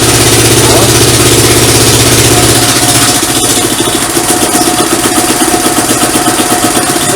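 A Kovi 300 Advance motorcycle engine, whose starter bendix bolts had come loose, runs close by with a low, throbbing idle that settles into a steadier pulsing beat partway through.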